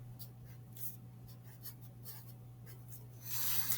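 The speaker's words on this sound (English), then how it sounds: "let's write everything down" Pen or marker scratching out math notes on paper or a board, intermittent soft strokes against a steady electrical hum, growing louder toward the end.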